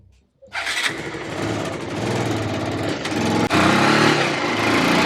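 A motorcycle engine sputters to life after a brief quiet, then runs loud and steady nearby with a small jump in revs.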